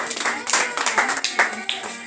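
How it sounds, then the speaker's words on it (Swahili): A church congregation claps during worship, a short burst of rhythmic, fairly close hand claps in an uneven beat, with faint voices behind. "Pigia Yesu makofi."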